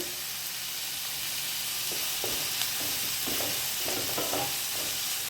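Curry leaves dropped into a hot pan with softened onions and tomato for a Kozhikode-style green peas and egg dish, an even hissing sizzle with intermittent stirring scrapes in the second half.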